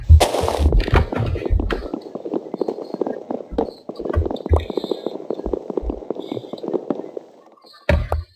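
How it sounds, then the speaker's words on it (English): Rapid bursts of gunfire in the Minecraft Tekkit modded game, loud sharp cracks in quick succession at the start, then a dense rattling clatter continuing throughout with a few more distinct shots near the end. "Someone just shot at me."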